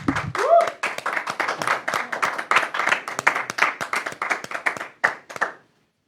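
Strong, steady clapping from a gathered audience welcoming a speaker to a faith gathering, dense hand claps running for several seconds before tapering off with a few last claps.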